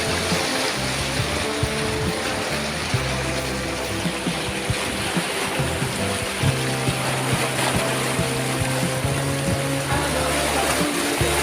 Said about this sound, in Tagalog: Malakas ang agos ng tubig.